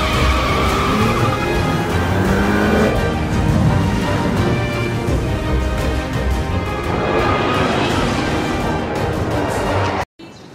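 A car accelerating hard in a commercial, engine roar building and shifting with tire noise, loud and close throughout before cutting off abruptly near the end.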